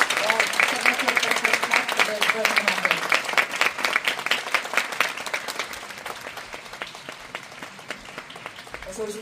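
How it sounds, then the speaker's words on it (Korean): Audience at a film screening event applauding to welcome the director and cast, dense sustained clapping that gradually thins, with a voice speaking over it. "큰 박수로 환영 부탁드리겠습니다"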